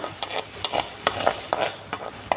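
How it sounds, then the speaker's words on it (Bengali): Onion, garlic and ginger paste frying in hot mustard oil in a kadai, a steady sizzle punctuated by regular scraping stirs of a metal spatula, close and fairly loud. "বাদামি বাদামি রং হওয়া পর্যন্ত আমি ভাজব"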